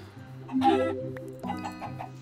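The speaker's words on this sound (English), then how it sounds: "I got some chickens, so I can get myself some big old chicken meat." Chickens clucking in Minecraft with the Advent of Ascension mod, a few close, short fowl calls with a louder burst followed by softer clucks.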